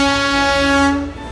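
A Darjeeling Himalayan Railway steam train on the line down from Ghoom sounds a loud, steady horn or whistle close by, which holds for about a second before fading.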